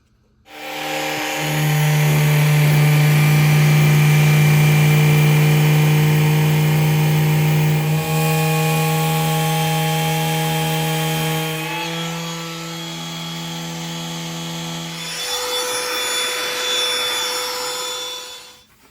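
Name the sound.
sanding wood trim with 220 grit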